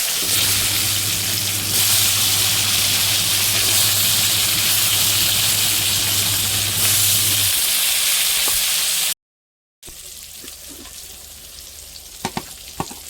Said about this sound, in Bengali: এবার আমি ভেজে নেব পটলগুলো